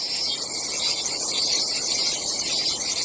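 A recording of cicada song plays alone, a continuous dense high-pitched buzzing drone, steady and loud throughout.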